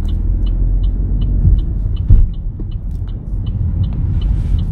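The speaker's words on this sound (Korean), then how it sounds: "자, 기어 넣으시고 출발." A car pulls away from a stop on a driving test route, its engine a steady low rumble and hum close by, rising slightly as it moves off, with a faint regular ticking over the drone.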